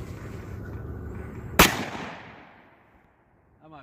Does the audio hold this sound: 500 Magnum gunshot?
yes